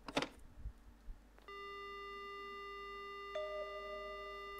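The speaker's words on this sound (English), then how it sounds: "The sound I hear is a dial tone." Steady electronic dial tone from a picked-up phone in the horror video game Spirit Hunter: Death Mark, following a brief handling clatter and holding as a continuous tone that shifts pitch once.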